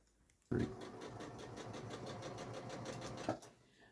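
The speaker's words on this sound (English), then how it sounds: "Okay, so what I'm doing here is I'm sewing this seam." A sewing machine stitches a seam on a quilt project, starting abruptly and running in a steady, fast mechanical rattle for about three seconds before stopping.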